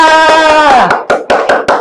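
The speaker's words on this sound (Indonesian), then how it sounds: "Beri tepuk tangan untuk kelompok Zia" Applause for a student group in a classroom; a voice trails off, then about six loud, separate claps ring out at a steady pace from a small group close by.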